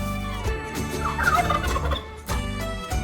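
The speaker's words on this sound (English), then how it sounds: "I see a turkey." Turkey gobbling loudly and close, a rapid rattling call with a short pause before a second burst, alone with no talk.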